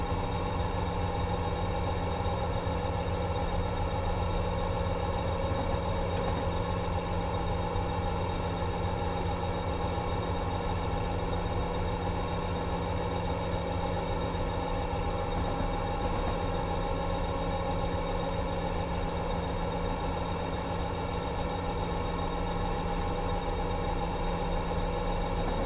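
Laramie Freight Service train rolling by in Train Sim World on Sherman Hill, a steady low rumble with constant engine drone and wheel noise lasting throughout, no talk.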